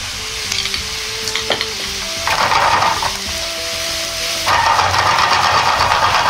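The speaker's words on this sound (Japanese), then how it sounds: "ラードの部分も1かけくらい入れて炒めます。" Lard stir-fried in a pan for a homemade ramen soy sauce base, a dense close sizzle that swells louder partway through, with intermittent spatula scrapes and a faint background hum.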